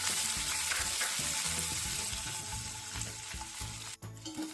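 Cashews and raisins fry in ghee or oil in a pan for kesari, giving a loud, steady sizzle with repeated low scraping stirs of a spoon and a brief pause near the end.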